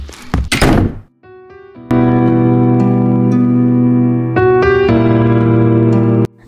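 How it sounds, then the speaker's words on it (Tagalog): A door is pushed shut with a heavy thunk at the start, followed by sustained dramatic music tones that swell and shift. "Sara mo na yung pinto."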